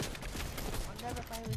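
Gunfire in the battle royale game Fortnite, a scatter of quick shots crackling under steady, excited talk from players, fairly faint and mixed into the chatter.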